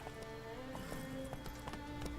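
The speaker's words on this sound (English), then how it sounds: "Horse." A horse in The Witcher 3 trots along with rhythmic clip-clopping hooves, fairly quiet and steady over a low game ambience, no speech over it.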